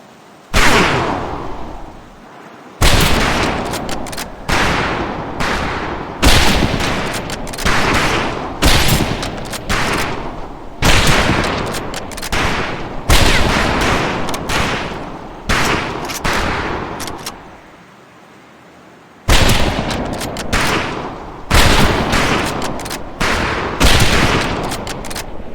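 Rifles fire in repeated close volleys on a firing range in Medal of Honor: Pacific Assault, loud cracking bursts in clusters separated by brief pauses, with one longer gap before the shooting resumes.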